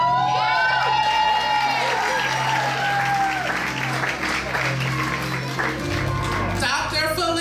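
Graduation ceremony crowd clapping and cheering loudly and continuously, with whoops and shouts rising over the applause and a voice talking through it.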